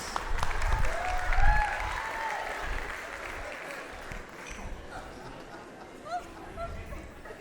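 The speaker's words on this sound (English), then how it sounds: "A round of applause for Purvi, please." Audience applause at a Bollywood dance show, a crowd clapping loudly at first with murmured chatter mixed in, then thinning to scattered claps and background crowd noise.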